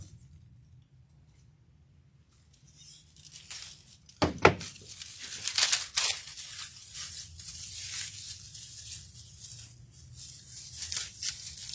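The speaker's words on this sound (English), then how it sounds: "I'm going to cut one vine off." A craft vine from Michael's is cut off its tangled bunch: a quiet start, then a sharp snap and crackling, rustling tearing of the dry stems close by, with no talk.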